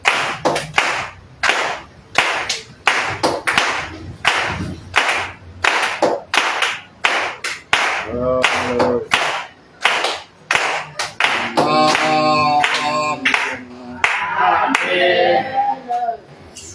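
A church congregation applauding, dense sustained clapping from many hands at close range, joined midway by music with voices.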